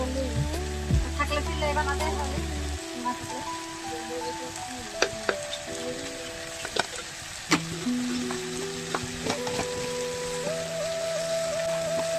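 Chicken pieces with salt and turmeric sizzle and fry in a pan in a Bengali dry chicken dish, with a steady crackle and occasional sharp clicks and knocks of stirring throughout.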